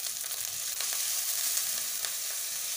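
A spice paste with a little water added fries in a pan for a cauliflower and egg curry, sizzling steadily and close at moderate volume with faint stirring ticks and no voices.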